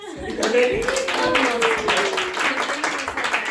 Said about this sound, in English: please round of applause for Yareni